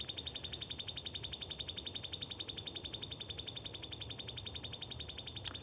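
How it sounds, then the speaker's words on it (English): A bird chirps in a steady, rapid series of repeated high notes, faint and distant, running continuously over a quiet outdoor background with no talking. "That's a bird."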